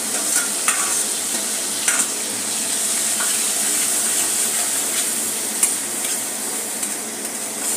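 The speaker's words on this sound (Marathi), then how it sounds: "आता हे कांदा टोमॅटोचं वाटण घालून घेत आहे।" Onion-tomato paste fries in a pan for a drumstick gravy, with a continuous loud sizzle and sharp metal stirring scrapes at intervals, and no talking.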